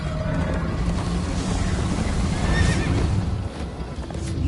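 A horse in Minecraft: Story Mode neighs and clops along at a steady pace during a chase, with a continuous rumble of movement and a bright whinny rising near the middle, close and loud with no talk.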